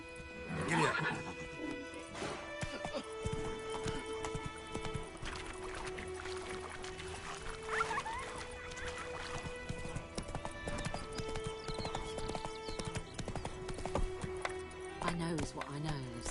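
Horse hooves clip-clop steadily through The Witcher 3: Wild Hunt on PS5, with a loud whinny near the start and more neighs, under game music and spoken dialogue.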